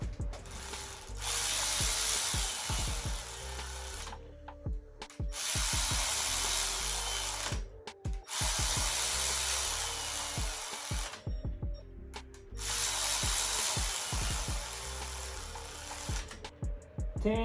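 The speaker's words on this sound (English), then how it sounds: "For that, we're gonna use the torque meter." Torque wrench ratcheting during a timing belt service on a Nissan 300ZX with the twin-turbo VG30DETT engine, in repeated bursts of steady clicking separated by short pauses, close and fairly loud, with no talk.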